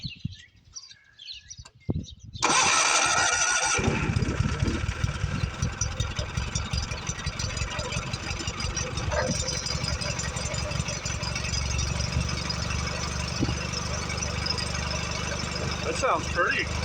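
A Kohler twin 17 small engine with a fault that blows a geyser out its vent tube cranks briefly, then catches and settles into a steady, loud idle, with birds chirping in the background.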